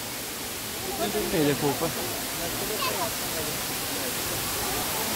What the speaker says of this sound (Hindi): सामने देखो फाउंटेन, मतलब ऊपर से पानी गिर रहा है, वाटरफॉल भी बोल सकते हैं आप, स्लो स्मॉल वाटरफॉल है।